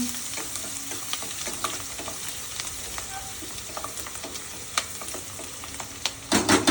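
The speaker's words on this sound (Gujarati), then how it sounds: "અને પછી આ ડુંગળી છે ને એ ડુંગળી નાખી દેવાની અને થોડી વાર હલાવવાનું." Chopped onions sizzle and fry in a pan while being stirred, with steady crackling and scattered clicks from the spoon scraping, growing louder near the end; no talking.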